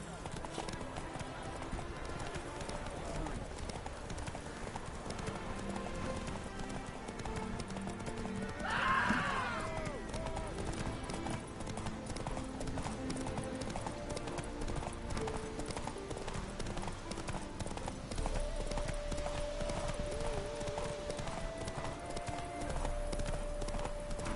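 Hooves clip-clop steadily through the whole stretch as a horse runs in The Witcher 3: Wild Hunt, with an occasional whinny and game music and voices talking over the rhythm.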